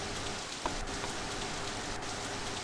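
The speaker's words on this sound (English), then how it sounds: "that rain doesn't loop poorly like that" Rain falls steadily in the video game Under Defeat HD on PS3. It is a dense, even hiss with a faint repeating seam where the loop restarts.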